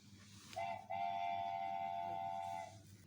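Train whistle or horn taken from an editing sound-effects library, sounding as one steady, loud tone that holds for about two seconds, with a faint rumble of rail noise running underneath.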